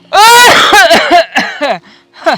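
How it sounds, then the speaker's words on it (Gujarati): A person coughs several times in a rough, voiced burst, close by, trailing off into a few weaker coughs. "ઉધરસ થઈ ગઈ, ઉધરસ"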